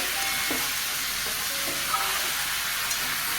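Vegetables with garlic sautéing in a pan for a drumstick curry with potatoes, a steady close sizzle with a few soft stirring scrapes, no talking.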